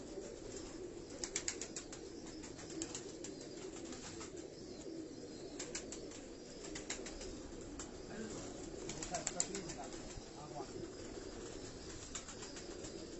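Old racing pigeons kept by a champion Karachi pigeon fancier coo softly and intermittently, faint against a steady background hiss with occasional wing flutters.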